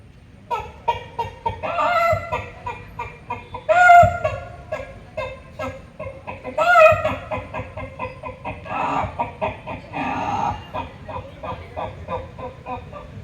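A human voice imitates a village hen cackling after laying an egg, a run of rhythmic clucks rising into loud squawking bursts, performed alone and close at a gathering.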